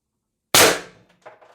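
One sharp, loud report from an IntruBuster Gen 2 carbine fitted with a Titan IB-2 drum magazine, a sudden crack that fades fast, followed by faint mechanical rattles.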